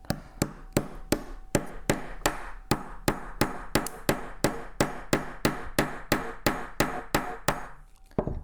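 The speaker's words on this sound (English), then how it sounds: "nylon side of this hammer, in order to pound it flush" Steady, rhythmic blows from the nylon side of a hammer, about twenty in all, struck close and evenly, each a sharp dull thud, pounding a pin flush on a Beretta Model 21A pistol on a block.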